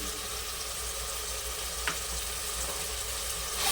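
A paste of ground shallots, mint and coriander sizzles and fries steadily for chicken biryani, a close, even crackle with a faint clink near the middle and no talking.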